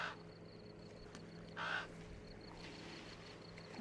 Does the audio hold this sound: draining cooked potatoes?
no